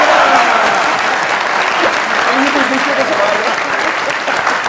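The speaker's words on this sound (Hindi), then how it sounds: "इसके ऊपर भी 2 बार तालियां होनी चाहिए।" Audience applause fills a comedy talk show studio, steady, dense clapping from a live crowd that holds at full strength throughout, with a few faint voices mixed in underneath.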